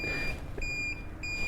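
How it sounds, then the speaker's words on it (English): A Total Control compressor gives several short, high electronic beeps in quick succession, faint over a low background hum. "we'll turn it off here so it stops beeping at me"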